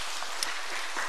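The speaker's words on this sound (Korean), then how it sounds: "하나님께 영광의 박수를 드리겠습니다" Church congregation applauding in a sanctuary, a brief steady wash of dense clapping with no voices over it.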